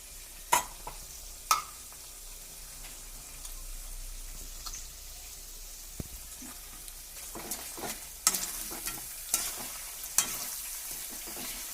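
Garlic and ginger paste frying in a pan for a handi chicken, a soft continuous sizzle broken by several sharp clinks and stirring scrapes, growing louder and busier toward the end.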